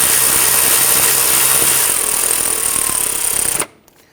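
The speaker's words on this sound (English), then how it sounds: "Go ahead and snug those down." A power tool runs loud and steady as it snugs down the knock sensor bolts on a 2011-2014 Kia Sorento engine, whirring continuously for several seconds with a high whine before cutting off abruptly.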